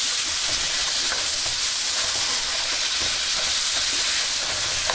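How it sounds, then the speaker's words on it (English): Chopped onions and garlic fry in a pan, giving a steady loud sizzle with faint crackles throughout, close up and with no talk. "Always put your garlic in after you put your onions in, otherwise you'll burn it."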